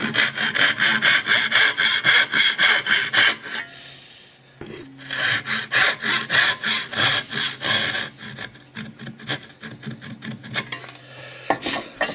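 A hand saw cuts almost an inch deep into a piece of wood clamped in a vise. Steady rhythmic back-and-forth rasping strokes sound close and loud, with a brief pause partway through before the sawing resumes. No one speaks.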